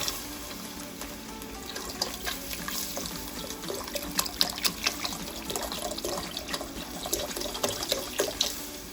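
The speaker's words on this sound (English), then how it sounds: "And I'll be adding some chicken stock." Chicken stock pours into a cooking pot for coconut rice, a steady close splashing trickle of liquid with small gurgles, alone without talk.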